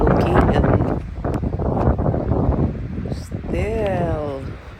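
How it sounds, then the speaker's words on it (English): Strong heavy wind gusting outdoors around a house, a loud rushing roar buffeting the microphone, with a voice speaking near the end. "still so heavy wind. It's a wind, guys."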